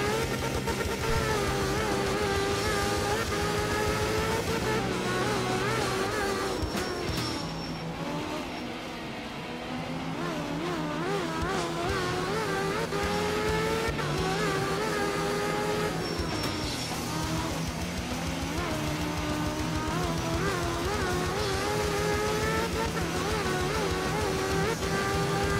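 A rally car engine in the art of rally game revs and drives steadily, with shifting tones as it accelerates and eases off, loud and continuous throughout with a brief dip midway.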